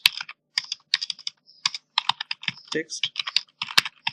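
Quick bursts of typing on a computer keyboard while writing JavaScript code: crisp, close clacking keystrokes in uneven runs with short pauses between them.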